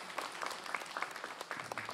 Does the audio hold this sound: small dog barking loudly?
no